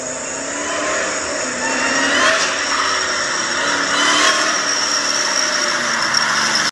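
A Grand National car drives past, its engine roaring loud and close. The engine rises to a revving peak and holds strong for several seconds.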